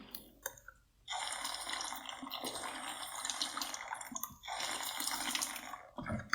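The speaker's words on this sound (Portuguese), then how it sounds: "Só beber uma água, peraí." A glass of water being drunk during a live stream: close, steady broadband liquid noise with a few short breaks, as if from gulps or pauses, with no talk over it.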